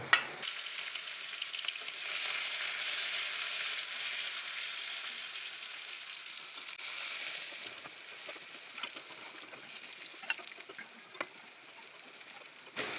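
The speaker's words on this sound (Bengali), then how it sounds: "আর এখানে রসুন এবং পেঁয়াজ আছে, এটা আমি এখন বাগার দিব।" Chopped garlic and onion frying in hot oil for a tempering, a steady bright sizzle close up that settles slightly over time, with a few soft clicks of stirring and no talking.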